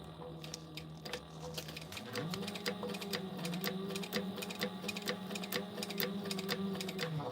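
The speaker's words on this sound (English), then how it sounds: "I'm going to back stitch at the beginning and the end here." A sewing machine runs back and forth stitching the start of a fabric pouch, a rapid mechanical whir with a rhythmic needle tapping that steadies and grows slightly louder after a brief shift in pace.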